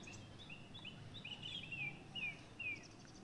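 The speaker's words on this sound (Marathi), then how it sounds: "पक्ष्यांचा किलबिलाट अगदी मनाला प्रसन्न असं वाटत होतं." Birds chirping in the morning at a hilltop temple fort, several thin high calls repeating through the whole clip over a soft, steady background hum, moderately distant and fairly faint.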